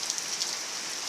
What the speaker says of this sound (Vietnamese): trời nó mưa to lắm các bạn ạ